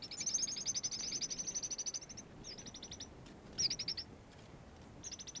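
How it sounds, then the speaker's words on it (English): An Arabian babbler perched in an acacia gives rapid runs of high, piping notes, repeated in several bursts over a soft outdoor background. "Also in an acacia, this Arabian babbler is on the lookout."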